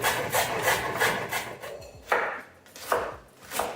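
Close-up knife chopping fresh cabbage by hand on a board for vegan piroshki filling, a steady run of crisp, rhythmic cuts that pause briefly, then return as several louder, separate chops.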